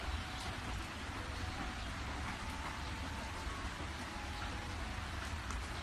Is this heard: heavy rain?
yes